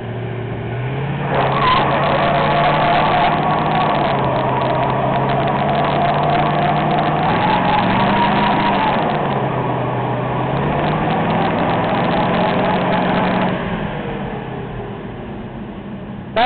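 A 1981 Chevy C20 pickup truck doing a burnout, its engine roaring loud and steady at high revs for about twelve seconds with shifting pitch and tire noise, then easing off near the end.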